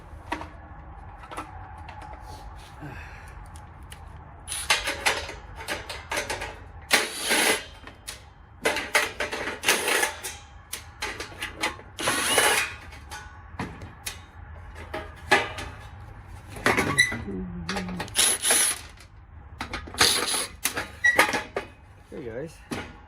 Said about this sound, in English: these screws will come out